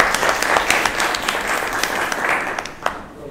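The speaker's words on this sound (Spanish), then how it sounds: "os dejo con Juan, un fuerte aplauso para él." Steady, close applause from an audience welcoming a speaker to the stage at a talk, dense clapping throughout with individual sharp claps standing out.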